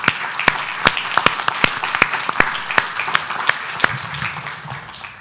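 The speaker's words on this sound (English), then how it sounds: "Let's give a round of applause." Audience applause fills a city council meeting chamber in Santa Ana, a steady wash of many hands clapping with sharp individual claps popping out, sustained throughout and gradually thinning toward the end.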